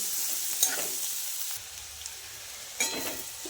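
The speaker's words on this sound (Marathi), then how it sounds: "हे छान मसाले या तेलामध्ये परतून घ्यायचे" Spices and chili powder sauté in hot oil for a spicy cowpea vegetable dish, with a soft continuous sizzle broken by a couple of scraping stirs of a spoon, close and fairly quiet, no talking.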